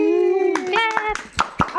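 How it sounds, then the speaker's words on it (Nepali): Hands clapping at a wedding: a child's sustained sung or spoken tone leads into several sharp, close claps, and more talk is mixed in between them. "ताली"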